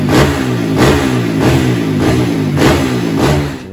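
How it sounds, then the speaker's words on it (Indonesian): Honda CRF motorcycle with a 200cc bore-up kit, freshly dyno-tuned with ECU setting, revving repeatedly in loud rhythmic blips over a steady engine drone, close up and without talk. "Ini dia saya kasih cek sound untuk motornya setelah di dyno dan setting ECU."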